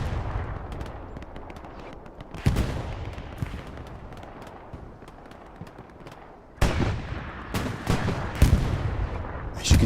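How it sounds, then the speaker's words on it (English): Rocket shots strike in the Hell Let Loose video game, with a dense rumble of distant gunfire under sharp, loud blasts near 2.5, 6.6 and 9 seconds. "As you can see, rocket shots coming in."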